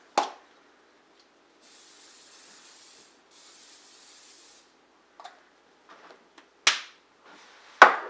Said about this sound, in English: At this point, we want to spray down our pan.